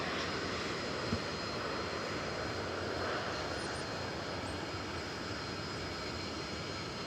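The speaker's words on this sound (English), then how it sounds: "people who just want to hear the sounds of the airplanes coming in and out" Airplane engines roar steadily at DFW Airport as an aircraft passes, a loud, sustained drone that stays constant throughout with no talk.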